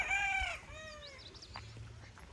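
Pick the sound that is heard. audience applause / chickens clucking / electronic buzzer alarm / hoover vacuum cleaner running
chickens clucking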